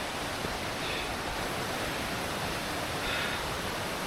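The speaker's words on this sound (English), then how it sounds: "This is the waterfall. We have to cross this river." Jungle waterfall and river rushing at a deep crossing on a wild trail, a steady broadband roar of water that holds constant throughout, loud and close with no other sounds.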